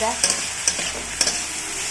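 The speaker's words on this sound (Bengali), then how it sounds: "আর এদিকে যে ভাজা হচ্ছে" Steady frying sizzle in a pan while making mixed fried rice, with a few sharp scrapes of a utensil stirring, spaced irregularly, close and moderately loud.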